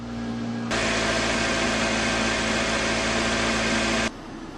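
A Toyota Corolla engine runs on diesel fuel mistakenly put in a petrol car, giving a loud, steady broadband roar that starts abruptly, holds for about three seconds, then cuts off sharply.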